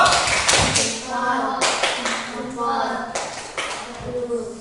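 Children in a classroom doing the 'tepuk jempol' clap game, a few clustered rounds of rhythmic claps and taps with pauses between, mixed with young voices and shuffling.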